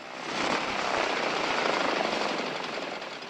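A loud, steady droning engine with a buzzing, rattling texture, holding level for a few seconds as a T-41 small propeller training airplane passes close by.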